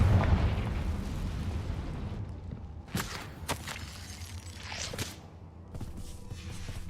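A Confringo spell in Hogwarts Legacy bursts with a low boom, followed by sharp crackling blasts and pops at moderate level over a rumbling background; no voices.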